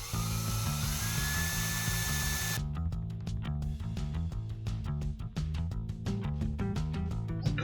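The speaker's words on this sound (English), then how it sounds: "Just going straight in with a 6mm drill." A 6mm drill bit bores out the rivet on a Matchbox 66E Mk 1 Ford Transit pickup die-cast model, giving a steady high motor whine that shifts into a choppy, grinding cut as the bit bites into the metal.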